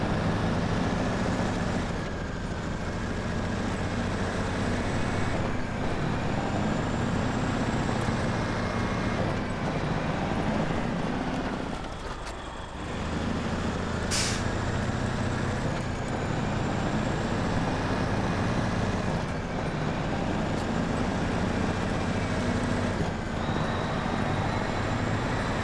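A winch truck's engine drones steadily and loudly in SnowRunner, a continuous low rumble with shifting revs and a brief dip midway, running alone with no talk.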